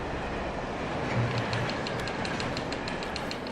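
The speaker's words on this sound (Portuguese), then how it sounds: "Ó o trem. Corre." A train rolls past in the Alan Wake video game, a continuous, fairly loud rumbling wash with faint repeating wheel clicks, no voices.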